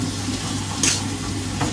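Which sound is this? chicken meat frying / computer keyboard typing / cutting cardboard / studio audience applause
chicken meat frying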